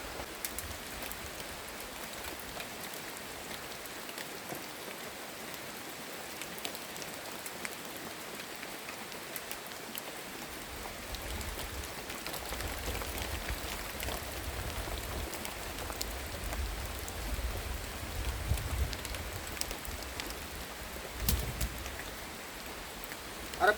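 Steady rain patters on a nipa hut, a dense continuous hiss that thickens slightly in the second half, with no voices.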